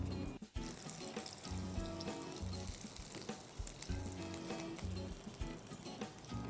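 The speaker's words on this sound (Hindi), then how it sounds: "इसी तरह हम अपने बाकी के आलू भी शैलो फ्राई कर लेंगे।" Potato pieces shallow frying in a pan of oil for Punjabi dum aloo, a steady dense sizzle with bubbling crackle running throughout, close and fairly loud, no talk.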